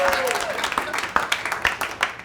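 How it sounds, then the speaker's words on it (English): A burst of audience clapping and cheering rings out over a lively crowd at a stand-up comedy show, with someone speaking briefly at the start. "another round of applause for"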